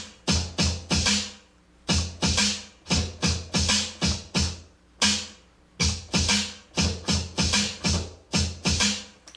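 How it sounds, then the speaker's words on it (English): Basic, slow old-school hip-hop turntable drumming: a loud, steady, looping pattern of punchy cut-up drum hits and short scratched strokes, played alone without voices. "make turntable drumming sound like this"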